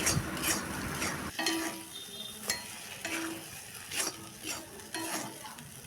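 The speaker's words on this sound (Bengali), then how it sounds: "বেশ কিছুক্ষণ ধরে ভেজে নিতে হবে" Yardlong beans frying in a pan for bharta, with a steady close sizzle and repeated scraping stirs of a spatula coming at regular intervals.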